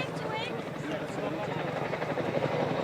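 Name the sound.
Chinook helicopter flying past at an air show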